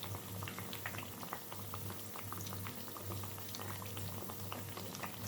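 Potato pakoras deep-frying in hot oil, a steady close bubbling and sizzling hiss that runs without a break, alone with no talk.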